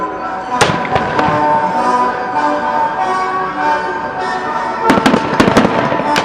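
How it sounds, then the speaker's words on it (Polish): Shots crack out in a fortress battle reenactment at Wisłoujście Fortress in Gdańsk, sharp loud bangs over a continuous rumbling din, some close and some farther off, in clusters near the start and the end. "Następuje, zobaczcie Państwo, wymiana strzałów między twierdzą Wisłą i Weissermünde a czarną perłą"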